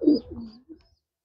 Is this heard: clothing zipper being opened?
no